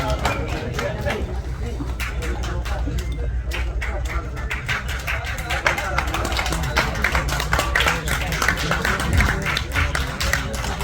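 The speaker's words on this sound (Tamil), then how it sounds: "இந்த பக்கம் கைத்தட்டின எல்லாருக்கும் நன்றி" Audience applause at a Tamil film audio and trailer launch for Vettaikaari, a dense, steady patter of many hands clapping that runs the full length at a constant level, mixed with crowd noise and voices.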